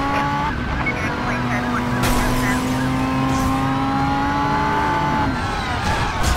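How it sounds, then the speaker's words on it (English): Car driving with tire squeal and skidding in the video game Driver San Francisco, a steady engine drone with sliding tire whines, close and loud throughout, with voices talking over it. "I'm not grading your driving, Ordell."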